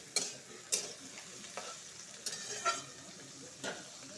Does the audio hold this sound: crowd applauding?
no